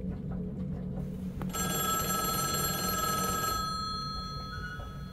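A telephone rings inside a video game set in an airport, a bright electronic trill that sounds steadily for about two seconds over a low background hum, then cuts off.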